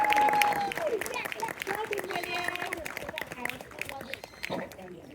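Audience applause at an outdoor winter birds of prey show at Warwick Castle, steady clapping across the whole stretch, mixed with crowd noise, a high bird-like whistle early on and a voice talking over it.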